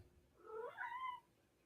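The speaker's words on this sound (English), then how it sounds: "Hear my cat meowing?" A house cat meows once, drawn out and rising then falling, clear and fairly close, in an otherwise quiet room with no one talking.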